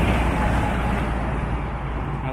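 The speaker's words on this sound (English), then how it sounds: "That was a loud truck." A loud truck rumbles past on a road, broadband roadway noise swelling close then easing off, no talking.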